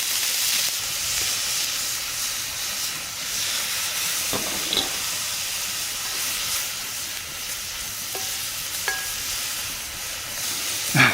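Onions frying in a pan at a bike camp by Murray Lake give a steady, close sizzle and hiss throughout, with a few light clinks of stirring.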